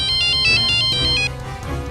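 Mobile phone ringtone for an incoming call, a loud repeating electronic melody of short bright tones that rings for about a second and a half and then cuts off.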